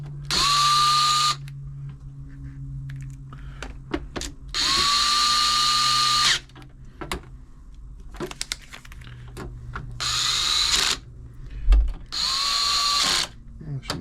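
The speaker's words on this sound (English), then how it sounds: "Just nip these up with the electric screwdriver." An electric screwdriver driving screws into a Janome sewing machine during a service, four whirring motor bursts of a second or more each, with small clicks and handling noises in between.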